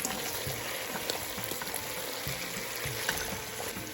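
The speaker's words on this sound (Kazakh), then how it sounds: "Пиязымыз жұмсарғанша қатты отта қуырамыз." Onions fry over high heat in a pan while making fried lagman, giving a soft, continuous sizzle and crackle with scattered small pops, fairly quiet and steady throughout.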